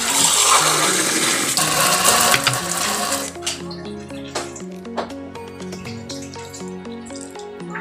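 Water is poured from a container into a homemade mackerel fishball mixture in a bowl, a loud rushing splash for about three seconds that then gives way to background music.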